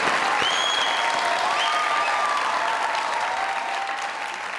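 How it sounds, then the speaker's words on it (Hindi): Loud, steady applause from a studio audience on a Pakistani comedy talk show, continuous clapping filling the whole stretch and easing slightly toward the end, with no voices over it. "इस हांडी पे जोरदार तालियां।"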